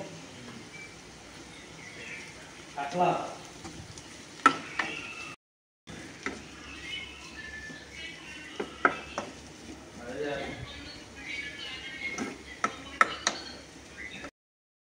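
Carrots stir-fried in a pan without masala, heard as quiet, intermittent scraping and light clattering of a spoon with a faint sizzle underneath, broken by a brief silent gap.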